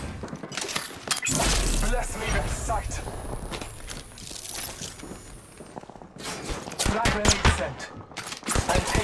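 Rampage gun fired in a video game, bursts of rapid gunfire with sharp loud shots, interspersed with footsteps and movement, while voices talk over the action.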